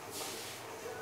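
Gas valve on a portable welding torch cracked open slightly, releasing a steady, soft hiss that rises and holds for about a second.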